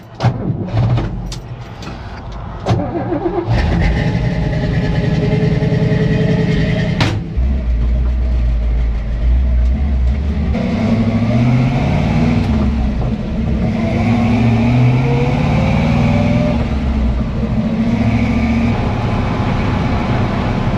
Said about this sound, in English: Now it just has normal old truck vibrations.